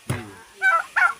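Loud honking calls from a poultry bird, a turkey among a farmyard of ducks and chickens, with three separate bursts: one low rough call then two higher squawks close together.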